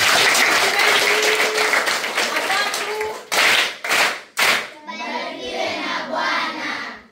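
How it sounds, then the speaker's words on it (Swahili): A crowd claps continuously in dense applause, then a few sharp loud claps or taps, followed by lighter, scattered clapping. "Wow, nipieni makofi."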